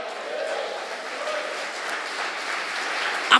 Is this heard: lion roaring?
no